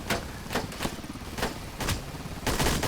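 Gunfire in the Roblox game BlackHawk Rescue Mission 5 cracks out in sharp, loud single shots at irregular intervals, about seven reports over a few seconds.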